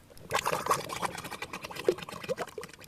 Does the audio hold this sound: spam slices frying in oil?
no